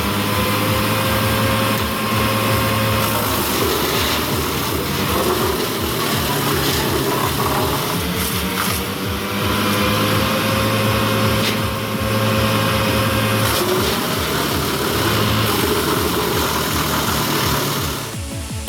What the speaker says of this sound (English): Chip the whole tree up.